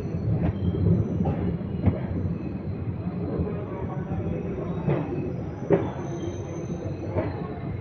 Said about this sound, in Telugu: మన ట్రైన్ అయితే పవర్పేట్ స్టేషన్ నుండి అయితే బయలుదేరిపోతుంది.